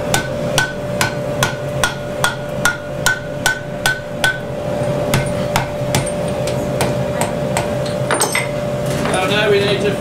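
A hammer strikes a chain link during forge welding, giving a run of evenly spaced metallic ringing blows, close and loud, that slow and then fade into a workshop hum with light clatter.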